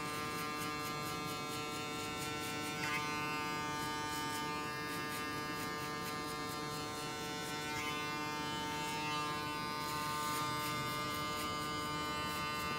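An electric hair clipper buzzes steadily and quietly while cutting a high fade, with a constant hum that shifts slightly in tone as it moves across the head. No speech is heard.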